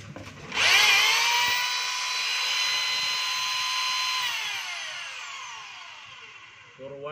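DeWalt D25144 rotary hammer being test-run, a loud continuous high whine of the motor that spins up sharply and holds steady for several seconds before slowly winding down.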